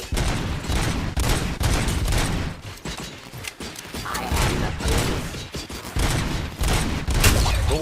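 A hacked turret in RoboCop: Rogue City fires sustained, loud rapid bursts of gunfire, with crashing impacts and clanking machinery in a chaotic firefight.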